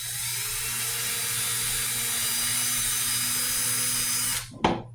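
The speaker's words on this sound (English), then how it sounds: "And then drill a hole." A power drill bores a small pilot hole in scrap wood, a loud steady whine with a low motor hum running for several seconds before cutting off abruptly, followed by a short clunk.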